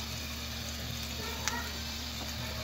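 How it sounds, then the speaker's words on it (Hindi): Ghee spooned around the edges of a paratha in a hot pan, giving a steady close sizzle with one small bright spoon tap midway. "इस तरह से हम किनारे किनारों पे घी डालेंगे ताकि नीचे वाली साइड भी घी लग जाए।"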